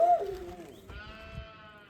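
A goat on a Yorkshire Dales sheep farm gives a couple of short, wavering bleats at close range, quiet against soft farmyard background noise.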